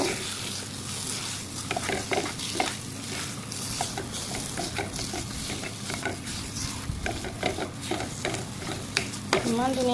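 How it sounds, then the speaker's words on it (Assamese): A mashed potato mixture being stirred and mixed in a sizzling pan, continuous close scraping and stirring over a steady frying hiss, with occasional utensil clinks against the pan. "এতিয়া আমি এইটো ভালকৈ মিলাই দিব লাগিব"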